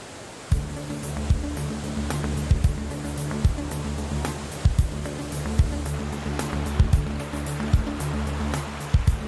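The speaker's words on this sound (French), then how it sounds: "50 mètres cubes d'eau se déversent en 3 paliers successifs vers la vallée de la rivière Nera" Heavy, continuous roar of falling water as a waterfall cascades in three tiers into the Nera river valley near Terni, steady and loud with recurring low thumps and no voices.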